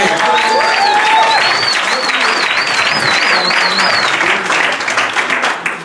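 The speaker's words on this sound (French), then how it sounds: "tu peux acclamer l'Éternel, tu peux acclamer" A church congregation claps in praise of God during a worship gathering in Seneffe, Belgium, a dense, steady applause filling the room for several seconds alongside whoops, whistles and voices, easing slightly at the end.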